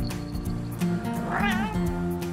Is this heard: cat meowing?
yes